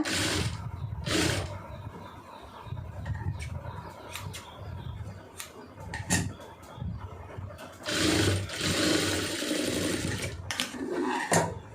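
A sewing machine runs a straight stitch through folded fabric for a side opening on an open top, its motor whirring in bursts with short pauses and a loud stretch near the end, close by with no talk.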